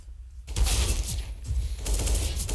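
Rapid automatic rifle fire from an M4 and an AK in a Counter-Strike esports match, dense overlapping bursts loud and continuous after a brief quiet opening, with game ambience throughout.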